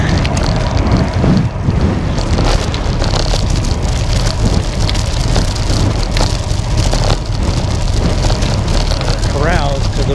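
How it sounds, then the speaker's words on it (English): Strong wind buffets the microphone while cycling a Texas Mountain Trail road between Fort Davis and Marathon in the Big Bend region, a steady loud roar and rumble that runs through the whole stretch. "Wind from the right as well."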